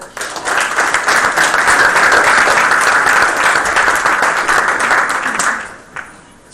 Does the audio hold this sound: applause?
yes